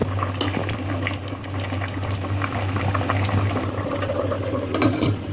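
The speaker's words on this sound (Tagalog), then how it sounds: "Pakuluin natin to ng 10 minutes or 15 minutes." Luffa (patola) soup boils steadily in a covered pot for Hong Kong long soup, a continuous close bubbling simmer with a low steady hum beneath and no talk.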